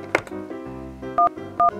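Telephone keypad dialing tones, several short, distinct beeps spaced out under a low background hum.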